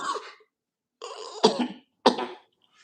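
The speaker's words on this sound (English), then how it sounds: "I was gonna cough up something" Several short, raspy coughs come in separated bursts, close and fairly quiet, with brief pauses between them.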